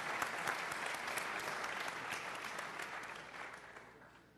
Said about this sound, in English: Big round of applause for Mr.